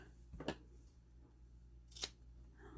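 Scissors trim paper for a card topper, two short crisp snips about a second and a half apart, close and quiet against a low background hum.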